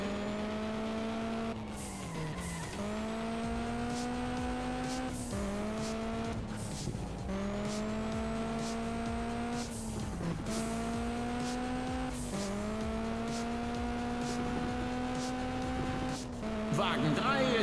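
Race car engines in the Juiced 2 video game whine loudly and continuously, with repeated gear-shift drops and upward sweeps, plus tire squeal, under someone talking over the action.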